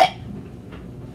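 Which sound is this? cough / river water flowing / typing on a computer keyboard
cough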